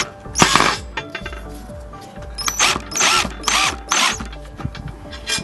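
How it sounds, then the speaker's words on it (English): A power drill whirs in several short bursts, each rising in pitch as it drives a 1/4 inch screw, with pauses and faint clatter between. "Now you're going to start drilling into one of the holes with those 1/4 inch screws."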